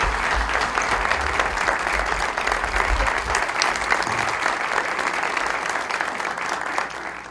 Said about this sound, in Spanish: un fortísimo aplauso para Jorge y a mi familia